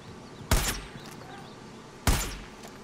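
Gunfire in the video game Far Cry 5: two sharp, loud shots about a second and a half apart, each with a brief booming tail.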